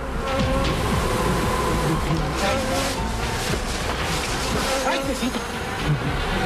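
A swarm of attacking killer bees drones continuously, a dense loud buzzing that fills the whole stretch with no break.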